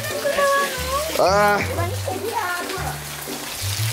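Rain falls on a construction site during a storm, a steady broad wash of water noise running under close, loud conversation between workers.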